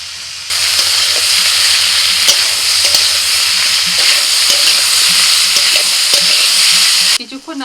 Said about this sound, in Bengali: নাড়াচাড়া করে ভেজে নিয়ে দিয়ে দিচ্ছি আদা রসুন বাটা